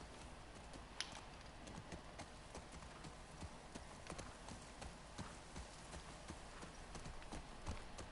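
Horse hooves clip-clop steadily on the ground in the video game The Last of Us Part 2, a continuous rhythmic trot over soft ambient noise.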